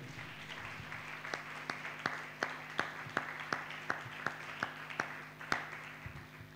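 Church congregation applauding, a steady rhythm of separate claps about three per second, soft and somewhat distant over a low hum, with no talk.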